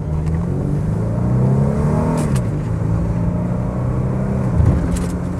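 A Mercedes 190E 2.3 16v Cosworth automatic under harsh acceleration, its four-cylinder engine droning loud and close from inside the cabin, pitch rising steadily then dipping briefly as the gearbox shifts.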